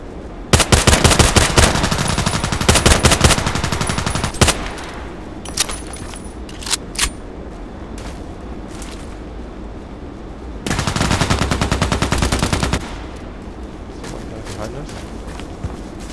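A newly acquired gun fired in the online shooter Contract Wars: long sustained bursts of rapid automatic gunfire, loud and close, broken by a pause with a few scattered single shots, then another extended burst.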